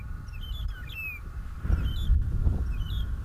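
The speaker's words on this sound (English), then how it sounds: "The language of the birds, they're talking to each other" Wild birds on an African safari call back and forth with short, high chirps and whistles, moderately faint over a low outdoor rumble and rustling.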